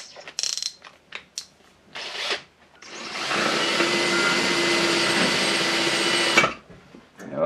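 An old cordless drill, fitted with a new lithium battery and a worn chuck, clicks and buzzes in short bursts before running steadily for about three seconds, then stopping.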